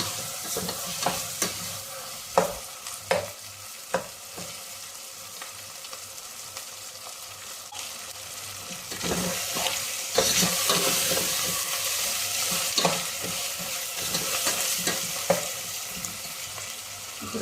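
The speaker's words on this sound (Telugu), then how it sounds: "ఇప్పుడు మనము ఈ అల్లం వెల్లుల్లి పేస్ట్ని కూడా బాగా ఫ్రై చేసుకున్నాము" Onions fry with ginger garlic paste in a pan, sharp stirring scrapes ringing out over a low sizzle that swells louder and hissier partway through, with further scrapes near the end.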